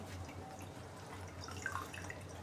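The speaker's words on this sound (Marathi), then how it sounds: "याचं पाणी काढून घेऊ पनीरचं" Water draining out of freshly made homemade paneer, pressed from milk cream: soft, steady dripping and trickling, faint and close with no voices.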